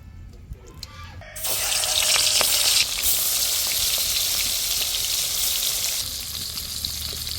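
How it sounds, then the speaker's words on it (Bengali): Mustard oil in a hot wok bursts into a loud, steady sizzle after a second of quiet, crackling continuously without pause and easing slightly toward the end. "কড়াই গরম হয়ে গেছে, কড়াইতে দিচ্ছি সর্ষের তেল।"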